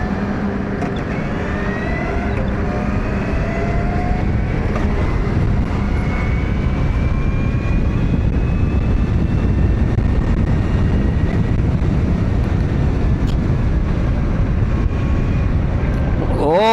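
Matter Aera 5000+ electric motorcycle ridden at speed on a road, with loud continuous wind rush and steady road roar throughout and a faint rising motor whine; no clear talking.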